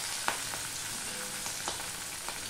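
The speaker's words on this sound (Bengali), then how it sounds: "এবার আমি মাছটা একটুখানি ভেজে নেবো" Hilsa fish pieces fry in hot oil, giving a continuous close sizzle broken by a few sharp pops and spatters.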